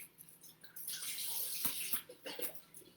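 Chicken broth from cartons pours into a soup pot for wedding soup, a soft steady gushing splash that starts after a brief pause and runs for a couple of seconds, close and fairly quiet.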